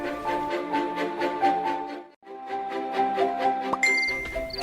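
Text message notification ding from a phone in a drama episode, bright repeated chiming tones in a steady pulse, a brief gap, then more chimes ending in a higher tinkle.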